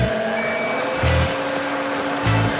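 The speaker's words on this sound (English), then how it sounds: "I hear Chris with a forklift" Forklift reversing alarm giving two loud, evenly spaced beeps over steady engine rumble and a faint tonal whine in the background.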